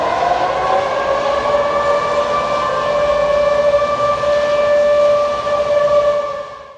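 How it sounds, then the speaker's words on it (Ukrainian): A long, steady air raid siren wail in Saint Petersburg holds a sustained tone with strong harmonics, loud and continuous, then trails off at the end. "місцеві чули сигнал повітряної тривоги"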